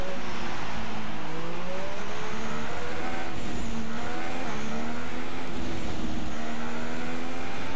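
Race car engine in F1 2016 at the Sochi Grand Prix, a Sauber pulling into the pit lane, a steady droning whine with gliding pitch as it slows, continuous and fairly loud throughout.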